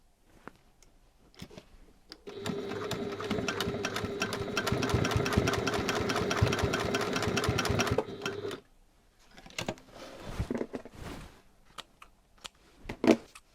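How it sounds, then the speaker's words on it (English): A sewing machine runs steadily for about six seconds, stitching a faux leather cross body strap, with quieter handling and rustling before and after. "we're going to stitch again 1/4 inch from that end"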